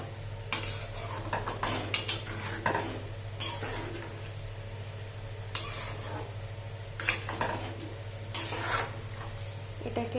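Vegetable sabji curry being stirred in a pan after water is added, with repeated scraping and clinking strokes of a spoon against the pot over a steady low hum and soft bubbling.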